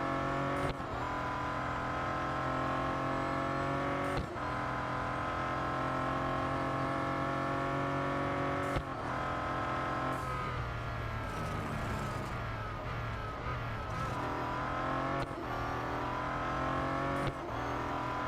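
Bentley Continental GT Speed racing in Real Racing 3, a steady loud engine drone with gear-change breaks, revs dipping and climbing again through the run, no voices.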